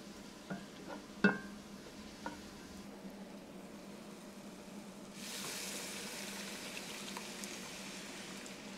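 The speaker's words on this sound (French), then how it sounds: "je vais mettre au minimum et je vais laisser réduire pour qu'il n'y ait plus de jus de tomate" A pot of chicken perloo with crushed tomatoes simmers gently on low heat, a soft steady bubbling and hiss that swells later, with a few faint clinks near the start.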